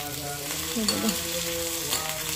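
Ginger frying in hot oil for a simple homemade sambar gives a steady, close sizzle with soft bubbling crackle, plus a brief clink of stirring near the middle, and no voices.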